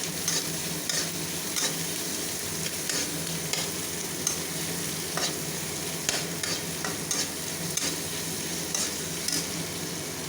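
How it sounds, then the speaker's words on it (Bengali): Onions fry in hot oil for Rupchanda fish chops, a continuous crackling sizzle with occasional stirring scrapes, steady and close, with no voices. "তেল গরম করে পেঁয়াজ ভেজে নেওয়া হচ্ছে"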